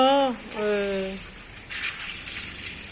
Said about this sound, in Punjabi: ਬੋਤਲ ਦਾ ਫੁਹਾਰਾ